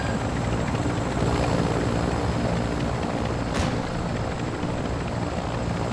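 Aircraft in a video game, heard as a continuous loud rotor-and-engine drone with steady low throb, filling the scene without voices, plus a brief whooshing sweep partway through.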